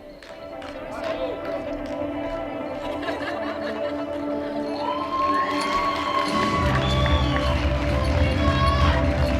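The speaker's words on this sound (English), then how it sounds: "applause for this category" Audience cheering and shouting in a hall at a European Open, Sub-Junior and Junior Classic Powerlifting Championship during the women's open 63 kg category, with music and a busy crowd swelling louder toward the end.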